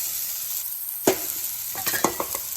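Rice and vegetables for egg fried rice are stir-fried in a hot pan, a steady sizzle broken by a sharp metal clank and then a quick run of spatula scrapes and taps.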